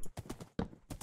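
Horse hooves clip-clop in the Minecraft video game, a few quiet, evenly spaced clusters of soft clopping steps with short gaps between them.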